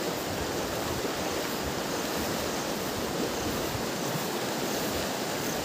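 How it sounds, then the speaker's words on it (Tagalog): Seawater rushes and churns with force, a dense, unbroken roar of surf that stays fairly loud and even from start to finish, with no talking. "yung ragasaan ng tubig, sobrang tindi yan"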